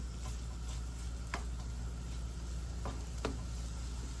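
Garlic sizzles steadily in butter and a little oil in a pan, a soft continuous frying hiss dotted with a few sharp pops, heard alone.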